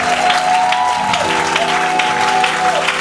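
A church congregation at a Sunday service claps continuously, with a sustained voice or tone held above the applause.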